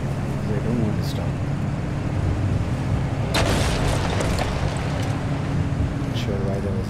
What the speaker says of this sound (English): Not sure why there was an explosion